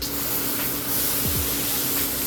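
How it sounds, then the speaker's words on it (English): A steady, loud hiss of water spraying at close range onto a red salmon, continuous throughout with no talking. "you gotta spray the shit out of the fish"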